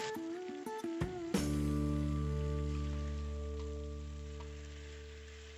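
Capsicum hits a hot pan for masala broccoli with a few soft clinks, then a loud, even frying hiss settles in and slowly fades, close and alone.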